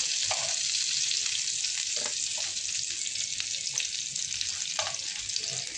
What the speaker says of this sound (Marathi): आपल्याला जास्त फ्राय नाही करायचं आहे.